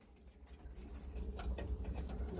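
Pigeons in a group of about thirty coo softly and shuffle, with light rustling and pattering of wings and feet. The sounds are faint and nearby, growing slightly busier toward the end.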